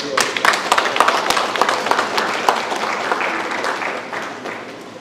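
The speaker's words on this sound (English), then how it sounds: "So I think we should give ourselves a round of applause." A hall of delegates at a prison officers' association annual council in Trinidad and Tobago bursts into loud applause, with sharp individual claps standing out from the crowd before it gradually tapers off.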